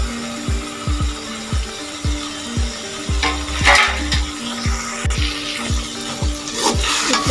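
A spoon stirs okra in a frying pan, sizzling, with repeated sharp scrapes and clinks against the metal in a regular rhythm, close and fairly loud.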